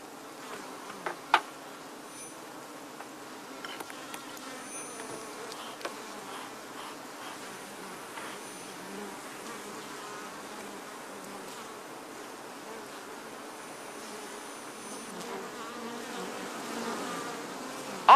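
Honey bees buzz steadily from two opened beehive colonies during an inspection, a soft continuous drone with occasional louder passes close by and faint handling clicks.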